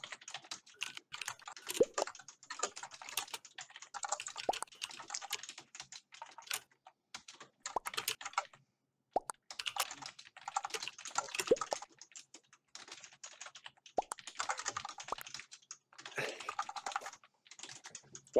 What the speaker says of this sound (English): I'm just typing it.